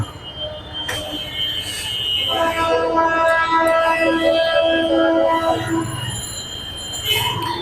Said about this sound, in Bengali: ট্রেনের একটা সিগন্যাল পেয়ে গেলাম যাচ্ছে ট্রেন ট্রেন যাচ্ছে